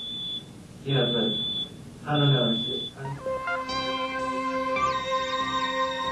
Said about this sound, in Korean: 정상 혈압을 넘어서자 경보음이 울리기 시작한다.